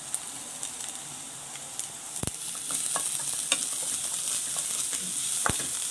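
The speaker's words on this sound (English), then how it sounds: "Now add the garlic, chopped garlic" Chopped garlic and ginger fry in hot oil with a soft continuous sizzle. A few sharp clicks of a utensil stirring against the pan break through.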